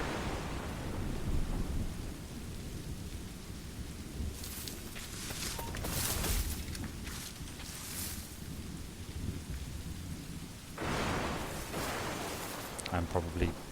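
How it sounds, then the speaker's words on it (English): A video-game thunderstorm in Assassin's Creed Rogue brings steady rain hiss with several rolling thunder bursts, heavier in the middle and toward the end. "The storm's getting worse."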